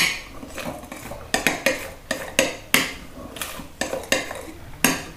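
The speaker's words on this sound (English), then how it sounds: "is stir the aioli." Smoked garlic aioli stirred with a metal utensil in a bowl, a series of sharp clinks and scrapes in uneven rhythm, close and clear with no talking.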